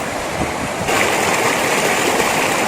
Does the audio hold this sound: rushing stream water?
yes